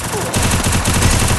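Gunfire in the video game Free Fire, loud rapid automatic shots in a fast, even rhythm that begin abruptly and keep going without letup, close and dominant.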